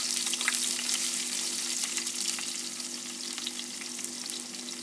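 Onions fry in a few teaspoons of ghee for a potato and carrot vegetable dish, a continuous close crackling sizzle over a low steady hum, with no voices.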